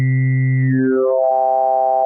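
Serum 2 synth wavetable 'talkative 1', heard as a sustained buzzy tone whose formant-like resonances glide downward and settle. Steady and loud throughout, with no voice over it.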